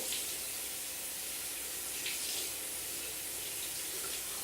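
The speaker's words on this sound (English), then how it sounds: "When you put your hands in here, don't touch the sides. You only want to get your hands wet." Running water from a sink tap pours steadily as hands are wetted under the stream, a continuous close hiss with slight splashing changes, no speech.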